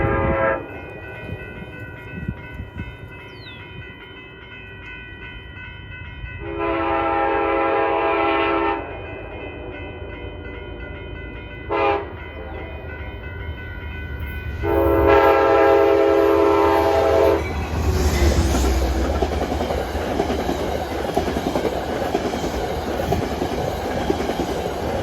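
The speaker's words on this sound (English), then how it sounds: "here comes one of the hottest trains on Metro North, 849" Metro North passenger train 849 passing along the Hudson River on a chilly day, with several long loud horn blasts and the roar and clatter of the cars rushing by close.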